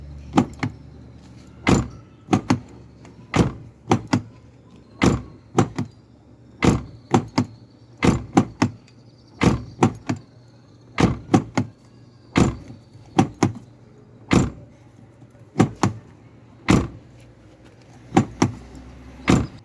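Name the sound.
Renault Megane 2 car door being opened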